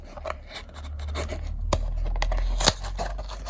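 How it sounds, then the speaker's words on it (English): Packaging tape on a small M.2 SSD box is sliced with short scratchy cutting and rubbing strokes and a couple of sharp snips, close and faint over a low rumble of passing cars. "Let's cut this tape here."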